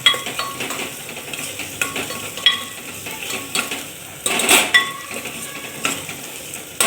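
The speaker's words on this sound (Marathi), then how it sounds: "छान अशी परतून घ्यायची आहे कांद्या बोल सोबतच छान असं आपल्याला आलं लसूण परतून घ्यायचे आहे" Onions sauté with ginger and garlic in a pressure cooker for pav bhaji, giving a light sizzle under frequent sharp metallic clicks and scrapes from a stirring spoon, and no speech.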